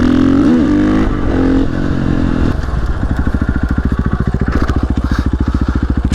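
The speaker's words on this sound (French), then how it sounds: "Tu laisses chauffer ta moto tranquille" Motorcycle engine idling while warming up at a wheelie training session, a steady close rumble with rapid regular pulsing after a brief rev at the start, no talk.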